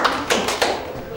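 Marbles clack together on a playing surface as a shot knocks pieces out of the circle, three or four sharp taps spaced through a second, close and fairly loud over a light room background.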